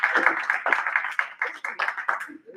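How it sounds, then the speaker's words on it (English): Audience clapping for panelists at a live-streamed climate event, rhythmic hand claps at close range mixed with cheering or voices over the top. "please, warm round of applause for our distinguished panelists"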